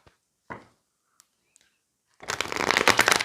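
A deck of cards is shuffled close up in a quiet room: a few faint taps and a short riffle, then a dense, steady riffle-shuffle burst toward the end.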